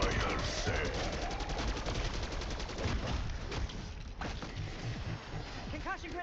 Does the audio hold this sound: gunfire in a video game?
yes